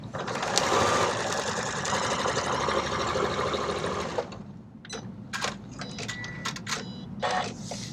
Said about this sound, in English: So the only thing I'm really focusing on is sewing a straight line.